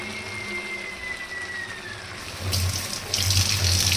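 Water poured into a bowl to rinse out leftover poppy seed paste in a kitchen, a steady close running splash that grows louder and fuller toward the end, with no talk.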